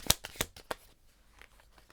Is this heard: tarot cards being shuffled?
yes